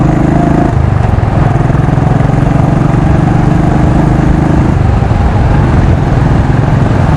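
A 2016 Royal Enfield Classic 500 Desert Storm motorcycle engine thumps loudly and continuously nearby, holding a steady deep running note with no voices over it.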